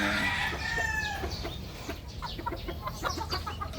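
Backyard chickens in a fly pen clucking and calling over one another, a busy close chorus of short repeated squawks with a brief drawn-out crowing note near the start.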